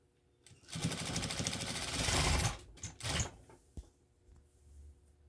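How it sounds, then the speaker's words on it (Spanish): A sewing machine stitches a blouse made from a man's shirt, running in a steady fast whir for about two seconds, then a few short bursts and clicks, fairly close and alone. "lo vamos a sostener de un lado y vamos a ir cosiendo"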